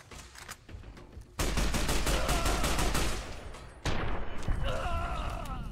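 Rapid bursts of gunfire ring out loudly in Fallout: New Vegas, dense repeated shots in two sustained volleys separated by a short lull, with some lighter mechanical clatter at the start.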